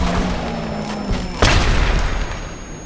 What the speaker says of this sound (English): I threw the fish head and it exploded.